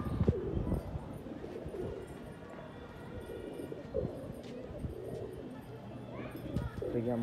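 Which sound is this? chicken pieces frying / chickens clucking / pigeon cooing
pigeon cooing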